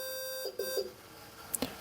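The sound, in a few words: YGE 205 ESC confirmation beep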